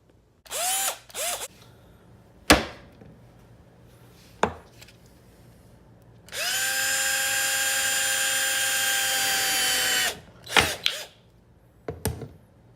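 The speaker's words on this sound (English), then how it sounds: "I'm going to use a drill just for dramatic effect" A handheld power drill runs in one steady, loud whining burst of about four seconds, alone, with a few sharp clicks and knocks before and after it.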